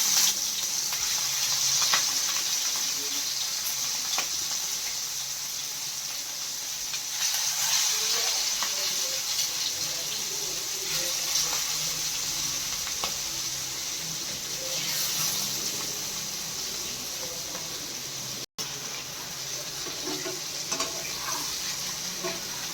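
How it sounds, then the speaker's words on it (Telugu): Fish fries in hot oil with a loud, continuous, hissing sizzle that carries on steadily for a long stretch. Faint stirring noises sit underneath. "దీంట్లో ఇప్పుడు ఫిష్ వేసేసి నీట్గా ఫ్రై చేసుకుందాము"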